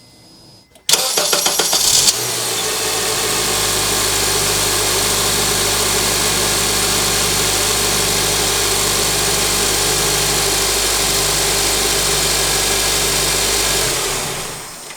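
A 2007 Honda Accord's 2.4 liter engine cranks briefly on a freshly replaced starter, catches, and settles into a steady, close idle that runs evenly for well over ten seconds with no talking.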